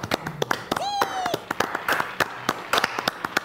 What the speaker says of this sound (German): Kleiner Applaus für Stefan.